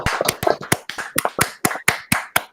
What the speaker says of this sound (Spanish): le damos un aplauso virtual y un abrazo virtual a Billy